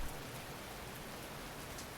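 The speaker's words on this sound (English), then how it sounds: "ambient sound design with the river and the raindrops" Rain and river ambience from the Attack on Titan anime, a dense, even hiss of falling rain with a soft rushing undertone, steady and fairly quiet without any voices.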